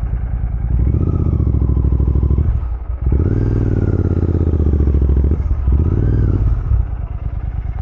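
A GT650 motorcycle idles loud and close while being turned around on a rocky off-road trail, its steady thumping engine note dipping briefly twice as the bike is shifted, with no talking.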